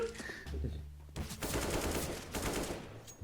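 Rapid automatic gunfire from a shooter video game, bursts of quick repeated shots that start abruptly after a short lull and keep going in dense volleys.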